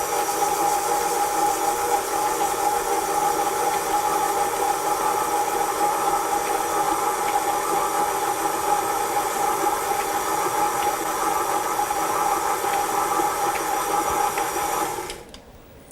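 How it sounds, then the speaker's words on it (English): An electric mixer on its lowest setting blends vanilla cake batter, making a steady, even whir that holds for about fifteen seconds and then cuts off abruptly. "we're just going to switch on our mixer. And initially we want it on a very low speed"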